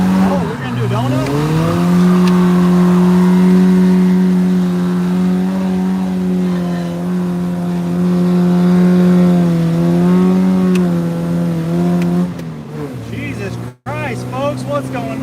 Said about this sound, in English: we're about to hit a skid